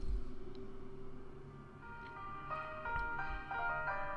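An electronic track rises gradually in a fade-in, with faint sustained tones growing into brighter melodic notes and rhythmic hits, playing alone without any voices.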